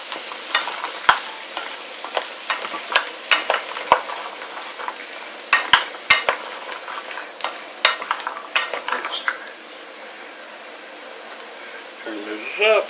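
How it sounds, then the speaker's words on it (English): Onions brown in hot fat in a pot for wine-braised beef short ribs. A steady sizzle runs under frequent sharp utensil clicks and stirring scrapes, loud and close, easing toward the end. "But we're going to let this brown. We're going to wait for the onions to brown."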